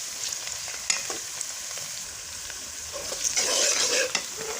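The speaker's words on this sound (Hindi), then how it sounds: "प्याज ब्राउन हो रहा है" Onions browning in a hot pan for a fish curry sizzle steadily up close, with a few sharp scrapes of a stirring spoon and a louder burst of spitting near the end.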